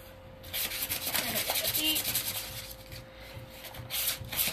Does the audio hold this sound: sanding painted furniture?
yes